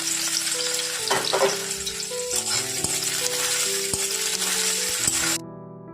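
Dal, mixed greens, fish and a cauliflower-potato curry with ghee and garam masala cooking in a pan, with loud steady frying and sizzling throughout, plus stirring clatters and utensil knocks near the end.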